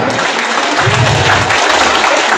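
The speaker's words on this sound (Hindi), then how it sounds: "तो हिजड़े वाली ताली बजा के बताओ एक बार जोरदार" Loud, dense clapping from a training-session audience in Delhi, many hands striking together in a sustained burst, hijra-style flat-palmed claps ringing out with no voices over them.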